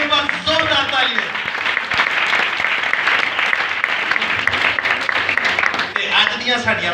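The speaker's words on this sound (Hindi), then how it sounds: "हमारी बहनों के लिए एक बार जोरदार तालियां।" Loud, sustained applause from a church congregation honoring the women, with a dense wash of clapping filling the whole stretch and some voices and cheers mixed in.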